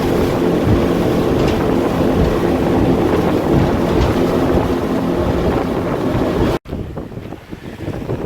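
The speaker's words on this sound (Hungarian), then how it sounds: "Hatalmasak a hullámok és nagyon ugrálunk a motorcsónakkal." A motorboat slams over large Indian Ocean waves near Rasdhoo in the Maldives in strong wind. The engine, water and wind make a loud, continuous roar that cuts off abruptly near the end, then gusty noise follows.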